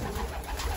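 A racing pigeon back at its loft after a 400-mile old bird race gives a brief cooing call, close and fairly loud against a steady, noisy outdoor background.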